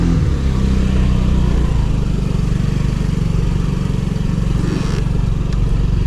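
A Honda Ruckus scooter engine idles while warming up, a loud, steady, close buzzing putter with a rougher surge in the first seconds before settling into an even drone.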